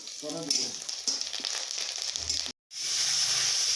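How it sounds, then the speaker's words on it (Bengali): Curry leaves sizzle in hot oil during a home-cooked tempering. A loud, steady frying crackle continues, cuts out briefly, then returns just as strong, with a faint voice low underneath at the start. "এই যে কারি পাতা দিয়ে দিচ্ছে এখন।"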